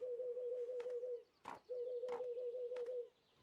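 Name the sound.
seagull call from the video game Tiny Bookshop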